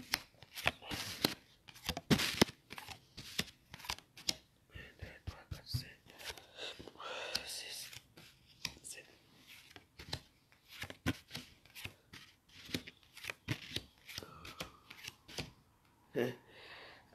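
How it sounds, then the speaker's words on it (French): Tarot cards are shuffled and drawn up close: a long run of crisp riffling bursts and soft slaps at an uneven pace, with occasional quiet whispering between them. "J'aime quand les cartes sortent comme ça."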